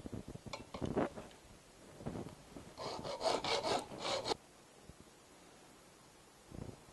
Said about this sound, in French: Je découpe un petit morceau de tige métallique.